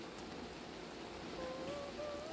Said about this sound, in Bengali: এখন দেখো কি প্রচণ্ড বৃষ্টি হচ্ছে